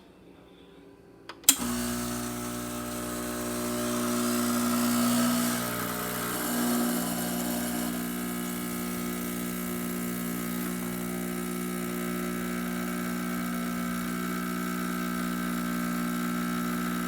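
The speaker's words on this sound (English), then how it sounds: "let's go ahead and pull a shot." A La Spaziale Lucca espresso machine, freshly serviced after a full tune-up, starts up with a sharp click and then keeps a steady, loud pump hum with layered tonal drone through the shot, no talking.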